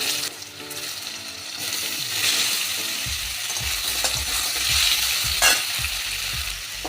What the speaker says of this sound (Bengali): এবার দিয়ে দেব সেদ্ধ করে রাখা পেঁপে আর আলু